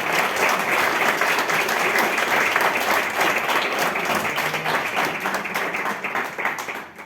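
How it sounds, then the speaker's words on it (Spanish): Dense, sustained applause from a student audience at a technological college in Ecatepec, many hands clapping loudly and evenly for several seconds before it begins to taper at the end. "Un fuerte aplauso, por favor."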